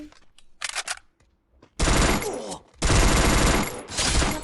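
Gunfire in the video game Bloodwing City: short staccato bursts at first, then two long loud automatic volleys close by, with a player's voice in between.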